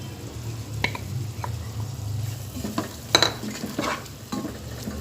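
A tomato masala with dried fenugreek leaves (kasuri methi) fries in a pan, sizzling steadily while a spoon scrapes and stirs through it in short strokes, with no one talking.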